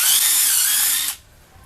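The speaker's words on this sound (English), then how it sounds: "To accomplish that, I drilled a pilot hole" A power drill whines at high speed boring a 3/16-inch pilot hole into a wooden 4x4 for a screw eye, one short close burst that cuts off abruptly.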